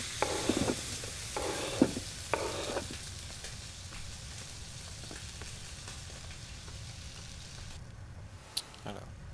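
Food frying in oil in a pan inside the video game Beyond Two Souls, a soft steady sizzle with a few stirring clicks and taps early on, faint and continuous.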